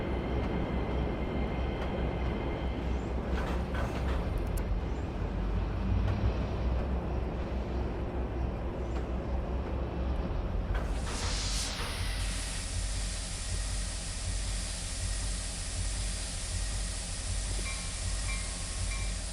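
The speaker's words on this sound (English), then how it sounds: "That light humming sound you're hearing is actually coming from the cars themselves rather than the engine." Train cars hum steadily as they run along the track, a continuous rolling rumble that changes character partway through as a bright high hiss rises over it, with no voices.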